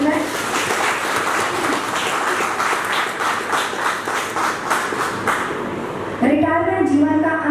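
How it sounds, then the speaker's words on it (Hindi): Vigorous applause and clapping fill a retirement ceremony in India, close and steady for about six seconds before a voice begins speaking as the clapping stops. "जोरदार तालियां हो जाए"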